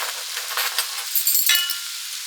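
Garlic sizzles in a hot pan for pasta, a bright close crackle with a few light clinks of a utensil against the pan, short and steady, without talk.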